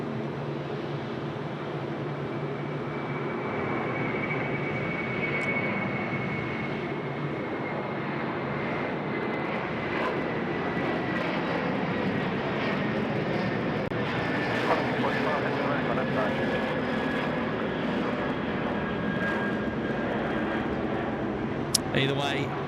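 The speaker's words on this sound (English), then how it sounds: "Either way, that aircraft is now off to Perth." A passenger jet climbs out of Sydney Airport bound for Perth, its engine roar a broad, steady rumble heard from a distance that holds for the whole stretch, with no talking.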